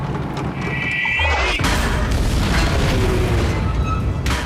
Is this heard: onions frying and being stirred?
no